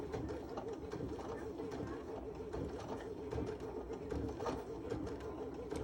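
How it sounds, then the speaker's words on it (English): A Baby Lock Sashiko sewing machine stitches circles on fabric with variegated Coats & Clark thread, giving a steady, quiet mechanical whir with a rapid even pulse that runs throughout. "So here we go, the Baby Lock Sashiko."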